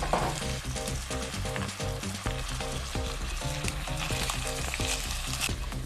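Rice sautéing in hot oil with meat for a vegetable pilaf, a loud continuous sizzle broken by regular rhythmic stirring scrapes, heard close with no talking.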